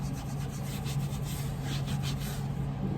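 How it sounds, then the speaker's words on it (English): Tooled leather with a floral pattern being buffed to remove antique finish, a close, steady rubbing swish of repeated strokes running continuously throughout. "Then you go back over the top, start buffing this a little bit more."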